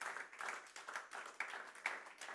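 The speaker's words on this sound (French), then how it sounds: "on vous accueille aussi avec nos applaudissements" Audience applause at a conference welcoming a visiting delegation: a soft, steady wash of many hands clapping with a few sharper individual claps, fairly distant and quiet.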